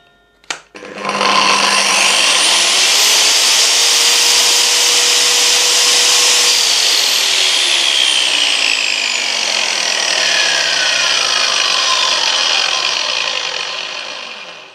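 A Makita GA9050R 230 mm angle grinder switches on with a click, spins up to a loud, high, whining roar and runs steadily at close range.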